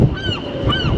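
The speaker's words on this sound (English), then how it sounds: "Look at all the seagulls." Gulls calling over strong wind noise on Alcatraz Island, with several harmonic cries close by and loud, rising and falling, against a constant gusty rumble.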